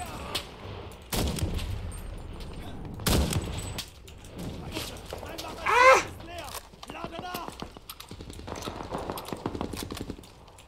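Gunfire in the multiplayer war shooter Enlisted during a fight over a control point: several sharp bursts and single shots, some close and loud, others more distant, mixed with clattering noise and someone talking.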